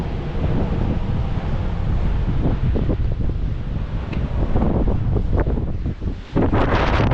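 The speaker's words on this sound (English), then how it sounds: "The waves crashing at the cliffs." Ocean waves crash against the cliffs of Malabar Headland National Park in Sydney, a steady roaring surge with heavy wind buffeting the microphone throughout, loud and continuous with no voices.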